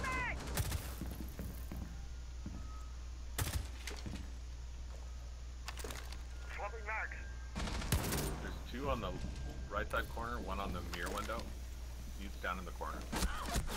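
Rainbow Six Siege gunfire on the Kafe Dostoyevsky map, with a few sharp, loud shots ringing out among game noise while players talk over it, the shots spread irregularly across the stretch.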